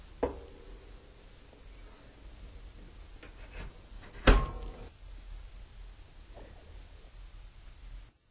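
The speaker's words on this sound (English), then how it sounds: "I'll set the air control fully open and close the door." A wood stove's loading door is shut, making one clear metallic clunk midway through, surrounded by faint ticks and low background hiss.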